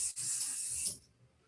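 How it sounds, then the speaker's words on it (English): Hair product sprayed from a can onto hands: one continuous bright hiss lasting nearly a second, close and clear, then cutting off into quiet. "I'm gonna spray on my hands"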